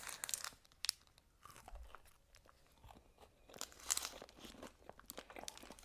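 Crunchy bites and chewing of a cookies and cream protein bar with a white chocolate coating, close and quiet, with sharp crisp crunches near the start and again around the middle and no talking.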